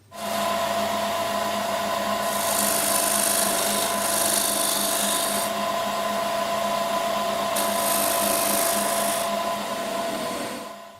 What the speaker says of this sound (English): Here I'm just using a Sorby scraper to do some final cuts ready for sanding